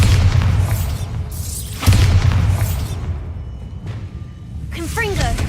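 Bombarda spell explosions in the video game Hogwarts Legacy, several loud booming blasts with sharp onsets and decaying rumble, mixed with a voice calling out spell names and other game effects.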